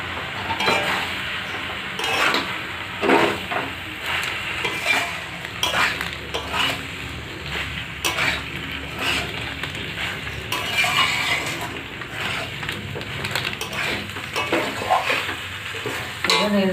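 Pasta stirred in a frying pan while making chicken pasta, a loud close sizzle mixed with repeated scraping and clinks of a utensil against the pan in an uneven rhythm, with no voices.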